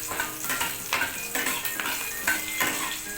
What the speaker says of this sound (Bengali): আপনাদের দাদা বাজার থেকে গুড়জালি মাছ নিয়ে এসছে, সেই মাছটা আমি ভেজে নিচ্ছি।